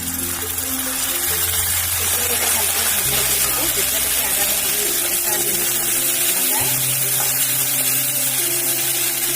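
Onion frying with ginger-garlic paste, a constant hissing sizzle close by that holds steady throughout under a low hum, with a voice talking over it.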